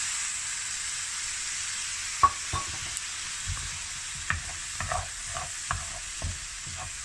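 Fried rice frying in a pan, with soy sauce added around the edges. A steady hiss of sizzling runs throughout at moderate level, with scattered spatula scrapes and stirring taps, and no talk.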